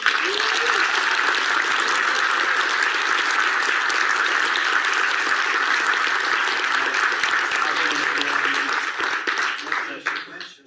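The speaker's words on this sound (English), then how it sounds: "let's give Ash a round of applause." Steady applause from a crowd at a Tomb Raider fan event fills the clip, holding loud and even before tapering off at the end.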